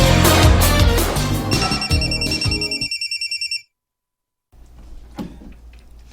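A telephone rings with an incoming call, loud and close, in rapid repeating trills layered over music and other noise. It cuts off abruptly into brief silence before quieter background sound resumes.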